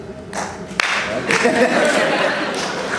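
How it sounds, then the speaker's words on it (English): An audience at a debate bursts into clapping, a steady wash of many hands that sustains for a few seconds. "Clap if you think that's true."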